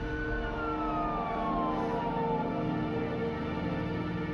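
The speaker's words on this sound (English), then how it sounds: "As the ambulance pulled away, police took a brief statement from the other accident victim." An ambulance siren wails steadily at an accident scene, a faint wavering tone sliding slightly downward as the vehicle pulls away, with a low traffic rumble underneath and no voices.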